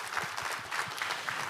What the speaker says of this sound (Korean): 감사와 영광의 박수 올려드리도록 하겠습니다